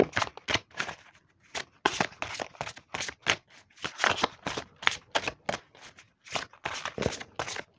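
Tarot or oracle cards shuffled and drawn for a general reading, giving a steady run of close, crisp riffling and slapping bursts with brief pauses between them and no voices.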